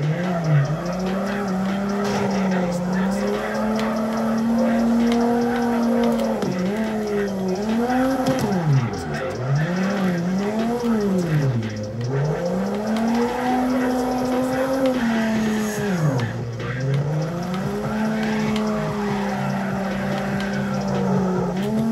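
Race cars in Drift Racing 2 slide through long drifts, their engines droning and wavering in pitch while tires squeal continuously, loud and close throughout.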